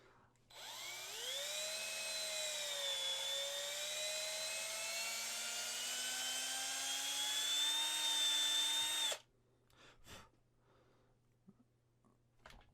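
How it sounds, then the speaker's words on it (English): A small hobby drill bores pinning holes in the weapons of a resin Predator model kit, spinning up quickly and holding a loud, steady whine close by for about eight seconds before cutting off, with a few faint handling noises afterward. "I'm just gonna drill the weapons real fast while I'm at it"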